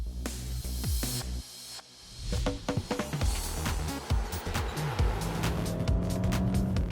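Infiniti G37 coupe driving on the road, its engine note loud and steady with tyre and road noise, rising briefly as it accelerates past, with no voices.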